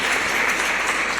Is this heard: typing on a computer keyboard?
no